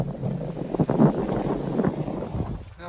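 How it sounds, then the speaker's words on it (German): Strong wind gusts at Sorpesee lake buffet the microphone in low, uneven rumbling surges that rise and fall over a few seconds. "der Wind wird immer stärker"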